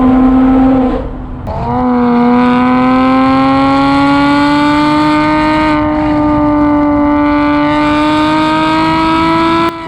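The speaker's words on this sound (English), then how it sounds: "you can press a fob and get a symphony of flat 6 sound" Porsche Boxster S flat-six engine sounding through an open valved exhaust, a loud sustained drone with rising revs after a brief dip near the start, harmonic and steady throughout with no talking.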